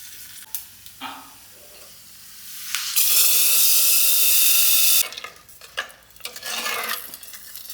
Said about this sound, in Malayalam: വെളിച്ചെണ്ണയിൽ ഇനി വറവ് ഇടണം അത് നമ്മൾ കടുക് പിന്നെ വറ്റൽമുളക് അത് വറുത്ത്